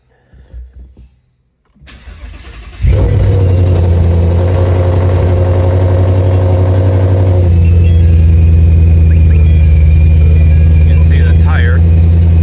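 A supercharged Ford Mustang starts up after a few quiet seconds and a speaking voice, the engine cranking and catching with a loud burst, then settling into a deep, steady, close idle with a faint whine above the low rumble.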